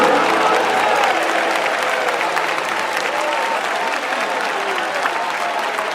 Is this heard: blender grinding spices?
no